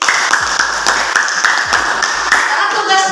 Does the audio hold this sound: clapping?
yes